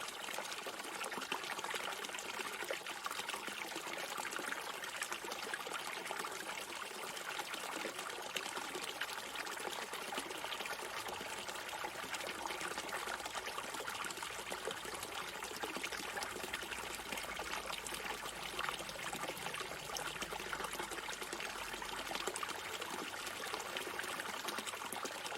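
Water gently trickling and pouring in a steady, soft stream, continuous and even throughout with no voices.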